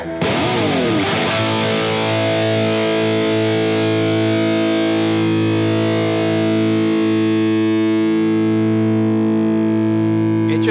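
An electric guitar runs through an LsL overdrive pedal with the gain down and the level turned up. One struck chord rings out distorted, then sustains as a steady, loud, buzzing drone for about ten seconds with no talk.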